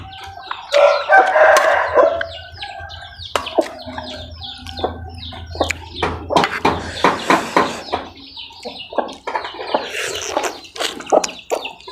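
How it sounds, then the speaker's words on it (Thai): Chickens cluck and a rooster crows repeatedly around a Thai farmyard, loud and close, with scattered bird calls and a low rumble underneath; no talking. "ไก่"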